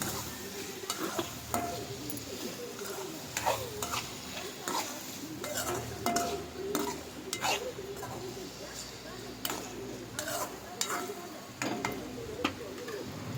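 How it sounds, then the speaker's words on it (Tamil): Chopped potatoes are stirred in a frying pan, a spatula repeatedly clicking and scraping against the metal over a faint sizzle, with a person talking throughout. "இப்போ கட் பண்ணி வச்ச உருளைக்கிழங்கு உள்ளே சேர்த்துடலாங்க. லைட்டாக கிளறி விட்டுடலாம்."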